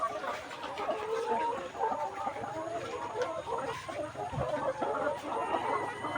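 Layer hens about 184 days old cluck continuously in a poultry shed, a dense, overlapping flock chorus at moderate loudness throughout.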